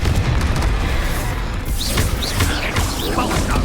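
A blasting spell explosion from the Confringo charm in Hogwarts Legacy erupts amid a loud, continuous roar of combat noise with crackling bursts layered on top.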